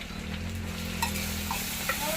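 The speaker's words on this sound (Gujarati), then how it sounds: "જો અમે દાળ આ વખત વઘારીએ છીએ." Dal tempering: spices and leaves fry in hot oil with a steady, dense sizzle and occasional stirring scrapes, close and continuous with no talk.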